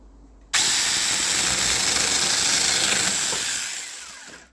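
Procraft PKA18B cordless mini chainsaw starts abruptly and cuts into a tree stump, a loud steady high-pitched whine that fades slightly as the cut finishes, with no talk.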